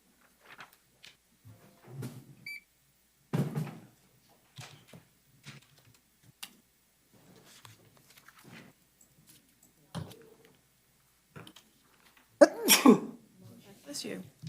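A sneeze in a courtroom stands out as a short, sharp burst among scattered thumps, shuffles and a few brief spoken words in a quiet room.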